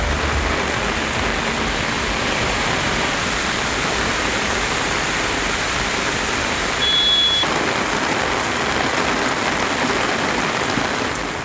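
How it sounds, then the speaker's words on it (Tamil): Heavy rain pours steadily over the Hosur area in Krishnagiri district, a dense, loud, unbroken downpour drumming on surfaces throughout. "கிருஷ்ணகிரி மாவட்டம் ஓசூர் சுற்றுவட்டாரத்தில் கனமழை பெய்தது."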